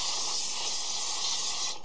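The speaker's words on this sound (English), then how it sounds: "I'm just going to take my brake clean and just spray the ever-loving bejesus out of it" Aerosol brake cleaner sprays onto the rear brakes of a Ford Explorer in one loud, continuous, close hiss that lasts nearly two seconds before stopping.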